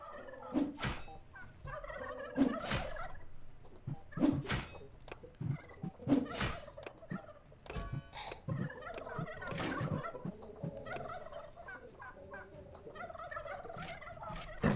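Turkeys gobbling in the video game Dungeons 3, repeated rattling gobble calls at a steady rhythm over a background of game ambience, fairly close and clear.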